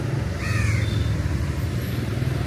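A single crow caws briefly over steady outdoor background noise and distant traffic rumble in Georgetown.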